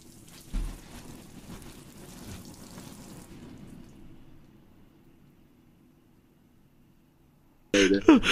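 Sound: rain sound effect triggered on command

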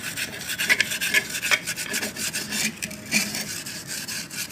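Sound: scrubbing a pot with a green scrubber

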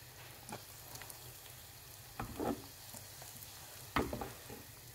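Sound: frying calamari in oil

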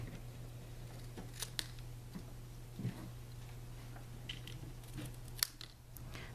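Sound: scissors snipping paper

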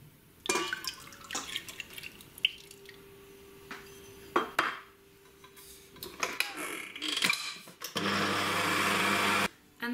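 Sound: mixing pasteurized egg whites until stiff

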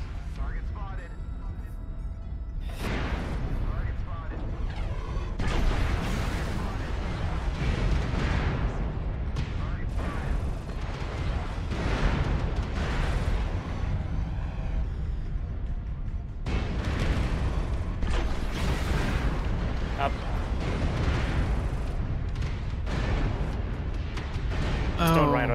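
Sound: airstrike explosions in video game Mechwarrior Online

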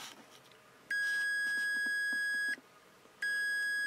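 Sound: beep of Capacitor Wizard ESR meter with leads shorted

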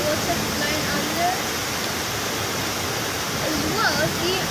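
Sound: storm water flowing in the street

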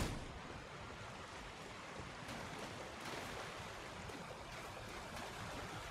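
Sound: waterfalls in the video game Elden Ring

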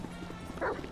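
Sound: dog barking in GTA V video game

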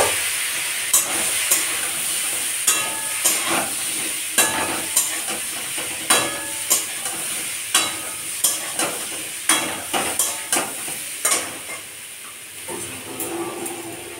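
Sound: frying elephant foot yam pieces in hot oil in a wok

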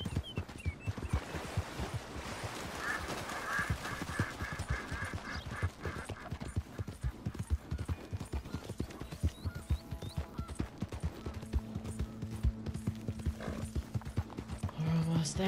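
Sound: horse hooves in Red Dead Redemption 2 video game

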